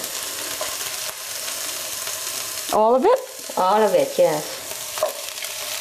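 Kale tipped into a hot frying pan with translucent onions for a tofu stir fry, a steady sizzle and stirring under short bursts of conversation between two people.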